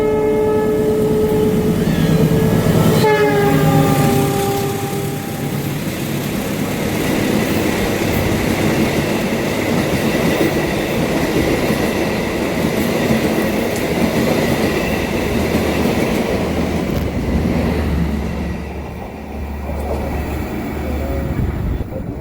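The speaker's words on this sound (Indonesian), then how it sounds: "kita tunggu kereta api Argo Wilis melintas langsung stasiun" Argo Wilis passenger train running straight through Manonjaya station near Ciamis without stopping, opening with a few horn blasts, then a loud, sustained rumble and rail clatter as the carriages roll past close by.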